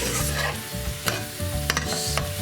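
A spoon stirs a sizzling sauce in a pan for a chicken pasta bake, with steady scraping strokes over continuous frying hiss, close and alone.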